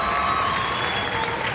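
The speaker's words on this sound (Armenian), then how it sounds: "ծափարենք մենք էլ, ողջունենք" Audience of parents and relatives at a stage event clapping together in a dense, steady burst of applause, close and loud throughout the short span.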